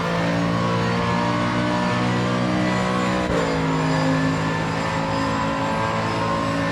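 Mercedes AMG GT3 Evo race car engine at full throttle around Imola in Assetto Corsa, a steady loud harmonic roar climbing through the gears, with a brief shift blip midway and continuous tonal drone throughout, no talking.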